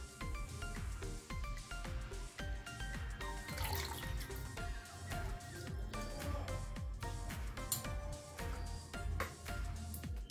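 Water runs and splashes while kitchen grocery containers are cleaned at home, a steady busy wash of splashing and trickling with small knocks throughout, fairly faint and continuous.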